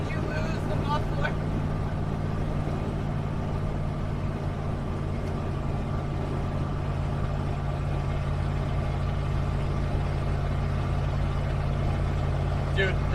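Pickup truck engine running with no muffler, a loud, steady, rough drone throughout, heard from inside the cab, with people talking over it.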